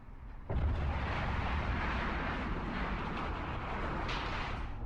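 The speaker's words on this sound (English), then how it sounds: "Nice explosion from a orca there." An Orca ship explodes in the space game Eve Online, a sudden deep boom that breaks in after a brief hush and rolls on as a dense, sustained rumble for several seconds.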